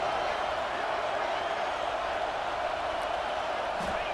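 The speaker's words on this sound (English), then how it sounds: "This crowd is trying to inspire this defense to make a big red zone stop." A roaring stadium crowd in an American football video game swells as the home defense tries for a red zone stop, a dense, steady wash of noise with no breaks, loud and continuous.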